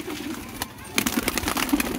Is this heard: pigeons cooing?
yes